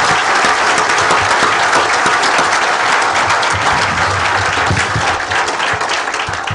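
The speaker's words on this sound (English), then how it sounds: "Let's give these folks a big round of applause for their generosity." An audience applauds heartily at a scholarship event, a dense, loud, continuous wash of clapping from a sizable crowd that holds steady throughout, with no talk over it.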